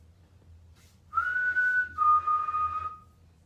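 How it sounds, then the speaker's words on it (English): A person whistles two sustained, clear notes, the first slightly rising and the second steady and lower, in a quiet room during a night-time ghost hunt, with faint low hum beneath. "we're going to whistle. Try and copy it"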